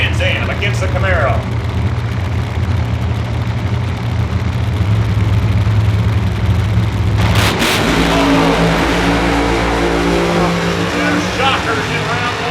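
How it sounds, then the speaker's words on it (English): A Trans Am and a Camaro drag race at a drag strip, engines droning loud and close before a surge of revving as they launch, with an announcer talking over the roar. "Trans Am against the Camaro."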